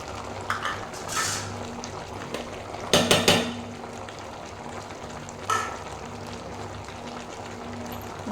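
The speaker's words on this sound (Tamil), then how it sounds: "இப்போ நம்ம நல்லா இதை மிக்ஸ் பண்ணி விட்டுக்கலாம்" A pan of pumpkin and broad bean curry, seasoned with salt, turmeric and chili powder, bubbles with a low sizzle. A spoon scrapes through it in a few short strokes, with one cluster of quick clattering scrapes in the middle.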